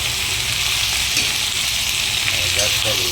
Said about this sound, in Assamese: এতিয়া ধুনীয়াকৈ লাৰি দিম কিছু সময়